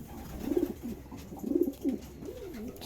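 Pigeon cooing inside a loft, with several soft, low, throaty coos in quick succession close by.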